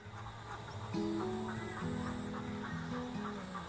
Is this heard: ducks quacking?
yes